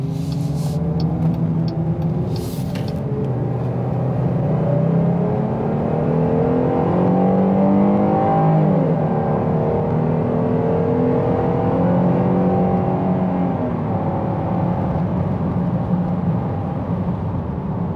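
A 2021 Jeep Grand Cherokee L V6 pulls uphill under acceleration, the engine drone climbing steadily in pitch with shifting harmonics and a brief dip near a gear change, loud and continuous from the cabin.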